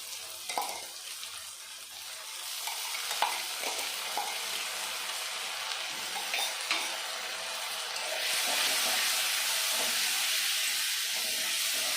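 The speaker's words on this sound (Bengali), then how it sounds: "পেঁয়াজটা টমেটোটা ভাজা ভাজা করে নিয়েছি এখন দিয়ে দেব আদা রসুনের পেস্ট" Ginger garlic paste hits a pan of fried onion and tomato and sizzles steadily, with a bright frying hiss that grows louder toward the end as a spoon scrapes and stirs.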